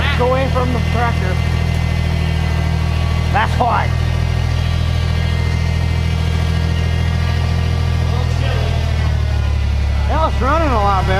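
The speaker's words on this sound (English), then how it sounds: "Well, it's running a lot better. It's running better. Much better." Tractor engine running steadily after carburetor work, a loud continuous close drone with people talking briefly over it.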